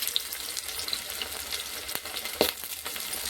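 Curry leaves drop into hot oil in a pressure cooker pot, giving a soft, steady sizzle and crackle with a few sharper pops and a stirring scrape near the end.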